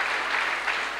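Steady crowd applause for a professor at a church gathering, a dense wash of clapping sustained evenly from start to finish with no talk over it.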